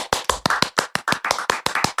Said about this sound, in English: So on the count of 3, everyone clap.